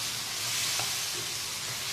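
A spoon stirs roasted masala into chicken gravy frying in a pan, over a constant soft sizzle and faint scraping, heard close and alone.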